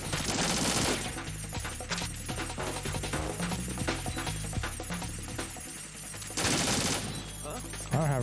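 Sustained gunfire in Metal Gear Solid 2, rapid bursts of automatic shots crackling loud and close over a game soundtrack, with heavier volleys near the start and end.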